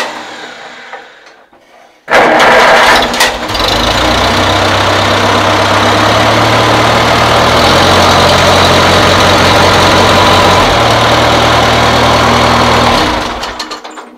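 A 1948 IH Farmall Cub tractor engine starts after a brief lead-in and settles into a steady, loud, close idle with a low rhythmic throb that runs unbroken for about eleven seconds before cutting off.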